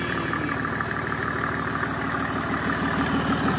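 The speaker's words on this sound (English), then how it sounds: "This is a G-Wagon spec engine, as you can probably tell." A Mercedes OM606 diesel engine in G-Wagon spec idles on a test stand, giving a steady, close, even chugging rhythm with continuous mechanical clatter and no talking.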